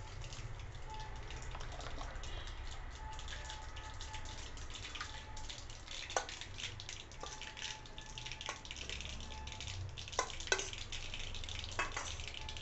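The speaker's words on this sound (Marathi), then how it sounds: "आता कढईमध्ये तेल टाकायचं। तेल तापलं की थोडीशी मोहरी आणि थोडासा" Mustard seeds and asafoetida sizzling in hot oil in a wok, a steady soft frying hiss with scattered small pops and crackles, fairly quiet and continuous, no speech.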